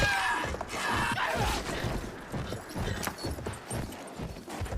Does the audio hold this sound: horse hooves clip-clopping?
yes